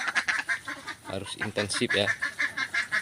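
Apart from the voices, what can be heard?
egg-laying ducks quacking on a duck farm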